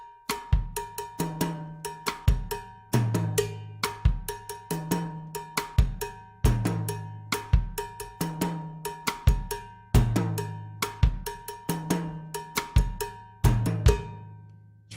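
A drum-kit groove plays a mambo cowbell pattern over bass drum, snare and hi-hat, all at one even volume. Sharp, bright bell strikes repeat in a steady syncopated rhythm for the whole stretch with no talking.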